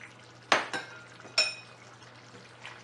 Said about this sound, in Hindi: अब हमने इसमें आलू डाल देने हैं।